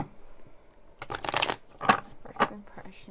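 Tarot cards shuffled by hand during a pick-a-card reading, a run of close, crisp riffling bursts with brief pauses between them and no talking.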